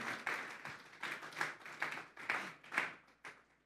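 A church congregation claps in rhythm as an offering of praise to God, a run of uneven bursts of many hands rising and falling together in a fairly close room.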